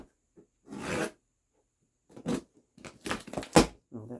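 Blade slicing through tape on a cardboard box holding First Alert SA77RF smoke alarms, heard as a few short scraping, zipper-like rasps with pauses between them, close and fairly quiet.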